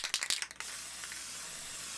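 Matte varnish is sprayed from a can onto a painted Star Wars Imperial Assault Royal Guard miniature: a few short hissing bursts, then one sustained close spray hiss that runs to the end.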